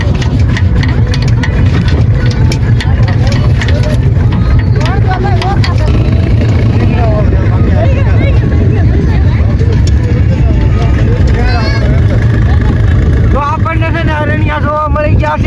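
A tractor's engine runs steadily and fairly loud while it is being ridden along a wooded farm track. Voices talk over the engine throughout.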